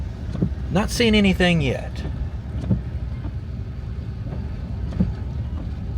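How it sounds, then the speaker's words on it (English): A car drives through a small town in Wilton, North Dakota, giving a steady low rumble of engine and road noise with wind buffeting throughout, while someone speaks briefly over it near the start. "As I drive through here."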